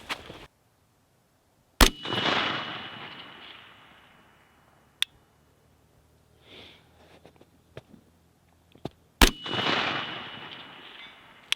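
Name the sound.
rifle shots fired from the ground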